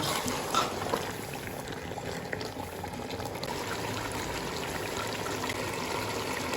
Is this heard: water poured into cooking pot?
yes